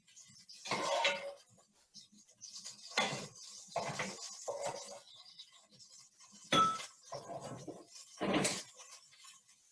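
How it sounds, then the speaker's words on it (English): Big spoon clinking against a bowl while moving cooked Cajun chicken, several distinct metallic clinks and scrapes spaced a second or two apart, close and fairly quiet with short gaps between. "I'm just gonna use a big spoon to plop it over into my bowl."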